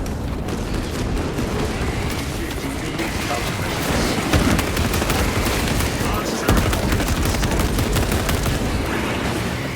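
Heavy gunfire in the Space Marine 2 video game, continuous rapid automatic bursts with scattered booms, loud and dense throughout, with voices speaking over the battle.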